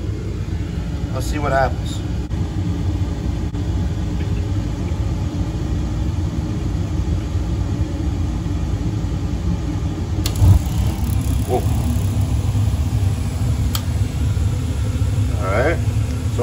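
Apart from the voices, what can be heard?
inducer and blower running on AO Smith BTR-500 water heater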